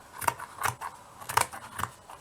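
Scissors snip through felt backing material for a vintage wall plaque, with about five crisp, separate cuts in a loose rhythm. The sound is close and fairly quiet, and no one talks.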